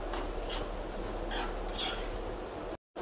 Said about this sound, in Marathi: जे आपण ड्रायफ्रूट्स कट केलेले आहेत ते टाकूया ह्याच्यामध्ये आणि मिक्स करूया.